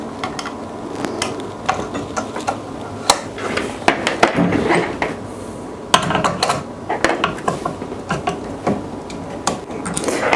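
Parts being loosened on a Prusa Bear 3D printer build, giving a steady run of small metallic clicks, ratcheting and tool taps close by, with no talk.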